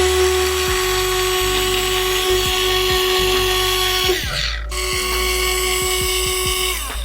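A Ryobi USB lithium power cutter runs while fed cloth, producing a loud, steady high-pitched motor whine with small clicks, a brief dip and change in pitch midway, then resuming.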